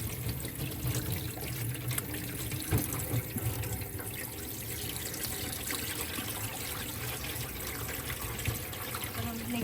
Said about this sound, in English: now we're gonna be washing the root vegetables, rinsing everything, making sure that the water runs clean